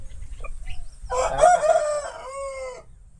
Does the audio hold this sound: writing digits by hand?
no